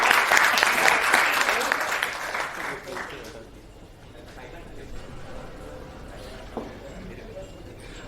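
A crowd at a student celebration event for IIT JEE results gives loud applause for a student. The clapping is strong at first and fades after a few seconds into quieter room noise.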